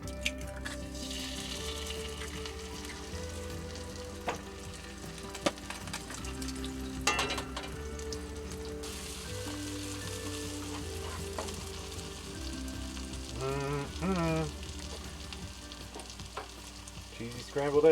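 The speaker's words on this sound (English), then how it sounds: "Get these eggs cooked in some bacon grease." Eggs fry in bacon grease with a soft, continuous sizzle, heard fairly faintly. Occasional utensil clinks and scraping come through, and background music plays under the cooking.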